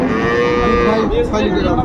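A dairy cow at the Raniganj cattle market moos loudly and close by in a long, sustained low call, with farmyard noise behind it and no talking.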